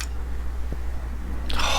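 A bottle of 1 Million Privé perfume sprayed once, a short sharp hiss near the end after a quiet pause, close by.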